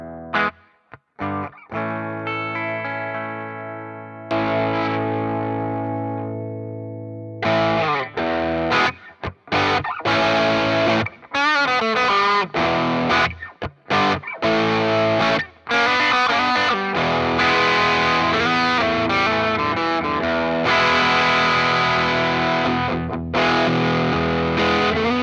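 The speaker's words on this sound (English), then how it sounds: "I've got a Blue Note from J Rocket going into the inputs of Chuck." Electric guitar played through a J Rocket Blue Note overdrive pedal into an Underdog Chuck tube amp in its overdriven hot mode: sustained chords ring out, then choppy bursts and fuller driven strumming with warm, gritty saturation, loud and unaccompanied.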